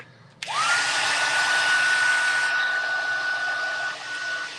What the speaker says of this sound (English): So now I'm going to hit that just a smidge with the dryer.